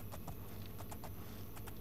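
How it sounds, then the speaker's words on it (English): Horse hooves galloping in The Elder Scrolls IV: Oblivion, a quick rhythmic clip-clop of hoofbeats in pairs over a low steady background rumble, close and moderately loud. "They see me riding my horse"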